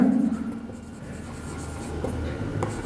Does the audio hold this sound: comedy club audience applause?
no